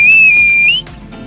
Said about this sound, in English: Whistling for the attention of the elite of Perth's development community